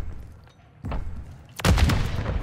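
A grenade goes off in Call of Duty: Modern Warfare 3 (2023) during a match, a sharp heavy boom with a rumbling tail after two softer impacts of battle.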